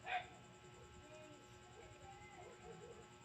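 A dog waiting to be fed gives a short yip near the start and then whimpers quietly now and then, while a person talks steadily over it.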